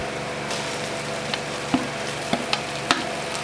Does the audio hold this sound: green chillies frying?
yes